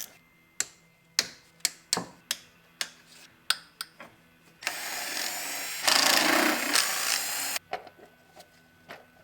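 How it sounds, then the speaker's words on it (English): Valve cover bolts being loosened on a V6 Mustang engine: a run of sharp, close ratchet clicks, then a few seconds of loud continuous rasping tool noise, and more isolated clicks after it. "Okay, now I can crack the valve cover bolts."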